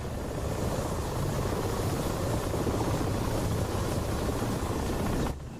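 An Mi-8 helicopter in the DCS World flight simulator gives a loud, steady rotor and turbine roar that fills the sound without a break, then cuts off abruptly near the end.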